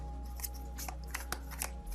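Tarot cards shuffled and drawn by hand, giving a string of soft, papery flicks and slaps at uneven intervals over a low steady hum, close and fairly quiet.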